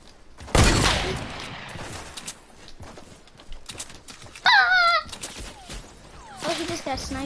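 Sharp sniper shots ring out in a video game shoot-out, a loud crack near the start and another midway, with whistling tones, other game effects and a player talking in between.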